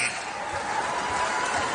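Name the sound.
basketball arena crowd of 17,000 cheering the starters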